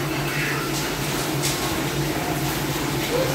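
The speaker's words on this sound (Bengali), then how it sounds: "তো বাইরে বৃষ্টির শব্দ কিন্তু অনেক আওয়াজ হচ্ছে।" Heavy rain falling outside, a steady, dense wash of hiss that stays level and unbroken throughout with no distinct drops or voices.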